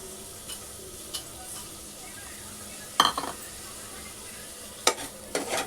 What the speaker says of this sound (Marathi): मस्त परतून घ्यायचं आहे